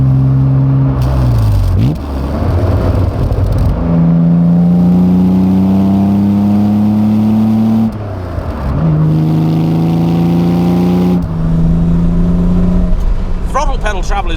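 Classic Aston Martin DB6 engine during a flyby, loud close rising revs through successive gear changes with dips at each shift, a throaty drone filling the whole stretch.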